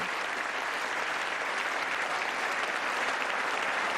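Steady, dense applause from an audience standing at Biden's State of the Union address, an even wash of many hands clapping with no voices on top.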